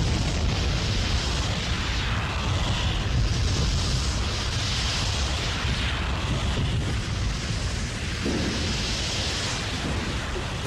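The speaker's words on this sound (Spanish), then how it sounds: "cada pocas horas expulsa piedras, cenizas y gases por medio de explosiones que producen el ruido de los truenos" A Costa Rican volcano erupts with explosive blasts of rock, ash and gas, heard as a sustained deep rumbling roar like distant thunder, broad and steady for several seconds with no voices.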